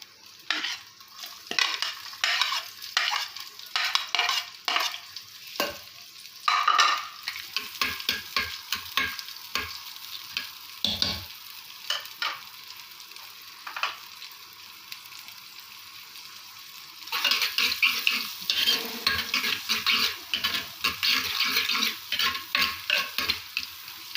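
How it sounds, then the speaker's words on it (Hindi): Onions sizzle in two tablespoons of hot oil in a heated clay cooking pot, with a steady frying hiss and repeated scraping, clattering stirs that come in bursts, pause, then return louder and busier near the end. "अब हम इसमें डालेंगे प्याज"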